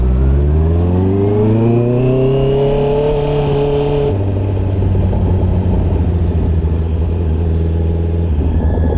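A 2024 Honda CB650R motorcycle with a full exhaust system revving in low gear, a loud, close engine note climbing in pitch, then dropping into a steady, raspy drone.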